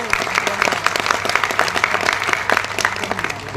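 Seminar audience in Ahmedabad applauding loudly, a dense sustained wash of many hands clapping close and full for the whole stretch, with a steady low hum underneath.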